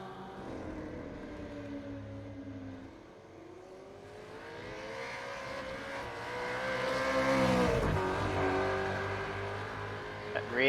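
A Supercars Championship race car at Canadian Motorsports Park revs and accelerates hard while its rear steps out, the engine note climbing and swelling to a loud peak as it nears, then falling away as it passes.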